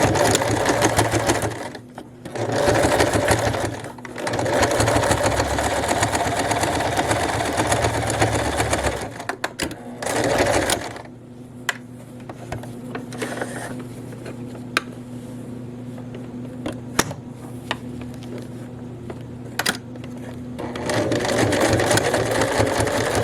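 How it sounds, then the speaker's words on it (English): A sewing machine stitches a skirt's plackets back down in a close, steady mechanical whir. It runs in several bursts with brief pauses, loud at first, then continuing more quietly. "I'm just going to stitch my plackets back down and we'll be done."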